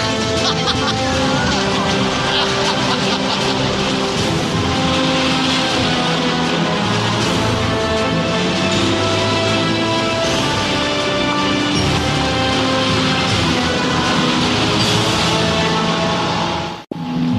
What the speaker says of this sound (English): They can't wait to take this wood-burning beauty for a spin.